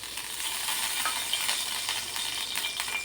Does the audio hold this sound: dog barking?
no